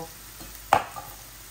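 Onion and garlic browning in a pan for a Bangladeshi dal, with a soft background hiss of frying broken by one brief stir-and-scrape near the middle.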